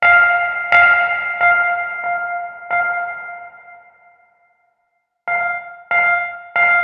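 Plate reverb from a Slate Digital Stellar Echo SD-201 on a repeated tonal hit, each strike ringing into a bright, shimmering tail that decays into near silence before new hits cut in.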